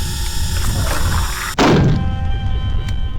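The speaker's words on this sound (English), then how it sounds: "I'm just shooting it in the face" A single heavy gunshot thud lands in the Blood Mall video game, loud and close, cutting sharply through a steady droning hum and trailing a brief low rumble, with no one speaking.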